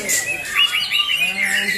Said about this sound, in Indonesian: Persiapan pertarungan burung Murai Batu